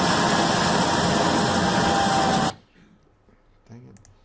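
An engine running steadily at around 1,500 RPM, heard as a loud, dense drone for about two and a half seconds before cutting off abruptly, followed by quiet background and faint speech.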